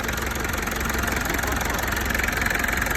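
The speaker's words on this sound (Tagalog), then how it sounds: "Tahimik ng makina mga boss" A private full-model 4DR5 engine idles steadily in an old vehicle, giving a continuous, even mechanical hum with a light knocking texture, close by and moderately loud for the whole stretch with no talk over it.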